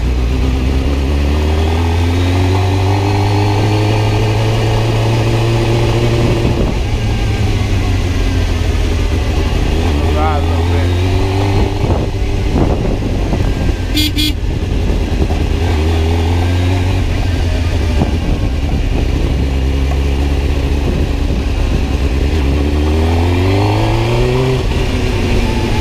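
A Suzuki GSX-R 750 sport motorcycle riding off, its engine droning loudly and steadily with repeated rising revs as it shifts through the gears, close to the listener and continuous for the whole stretch.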